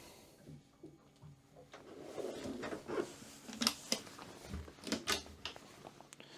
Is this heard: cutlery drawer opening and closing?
yes